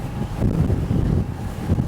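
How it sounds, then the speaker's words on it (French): Headwind buffeting the microphone while cycling downhill, a low, rumbling, gusty roar that swells and dips without pause. "Waouh, là ça va être vent de face dans la tronche."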